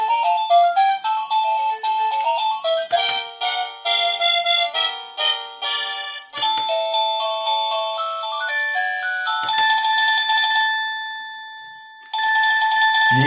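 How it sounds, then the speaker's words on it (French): An AUKEY wireless doorbell with blue LED plays an old-fashioned telephone ringtone melody, a bright electronic tune of rapid repeating tones that sounds loud and close, with no talking over it. "Vieille sonnerie de téléphone"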